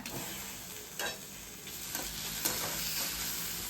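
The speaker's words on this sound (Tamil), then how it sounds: "வெங்காயம் மிளகா வதக்கியாச்சுங்க" Onion, curry leaves and two broken dried red chillies fry in a pan, making a faint, steady sizzle with a few soft stirring knocks and no one speaking.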